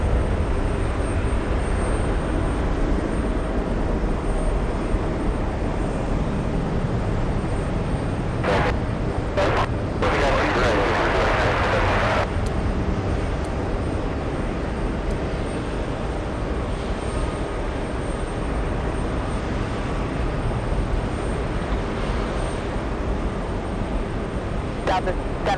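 A JetBlue airliner bound for Cancun passes at JFK with a broad, continuous engine roar that holds steady for the whole stretch, a voice talking faintly over it.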